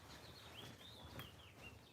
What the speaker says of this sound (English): Oh, I hear birds chirping.